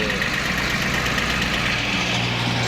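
A small Japanese-import tractor's three-cylinder diesel engine idling, a loud, steady knocking drone that continues without a break.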